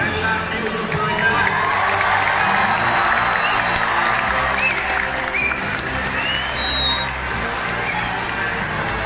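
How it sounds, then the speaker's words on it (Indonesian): A crowd applauds and cheers at a public event in Indonesia. The clapping and cheering are loud and steady, mixed with crowd babble and some shouting throughout. "Saya ingin tepuk tangan sekali lagi untuk Bu Reda."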